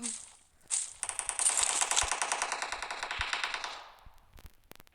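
Rapid automatic gunfire in an online shooter game, a dense burst of shots lasting a few seconds, fairly close and loud, with a few single shots trailing off.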